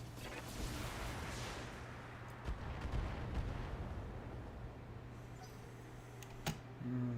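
A Saladin tank fires in a mech combat video game, heard as a rolling, booming burst of gunfire over a rumbling battle background, followed by a sharp crack near the end.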